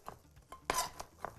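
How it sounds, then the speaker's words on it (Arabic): Almonds toasted in butter being chopped on a kitchen board, a few light, scattered knife taps and clicks, one sharper knock in the middle, quiet and close with no speech. "واقطعه تقطيع حلو بهذا الشكل"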